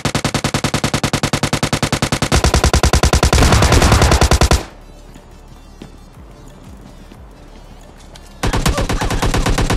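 An SLR rifle in PUBG Mobile Lite fires a loud, fast string of evenly spaced shots for several seconds, falls quiet, then resumes with another sustained rapid burst.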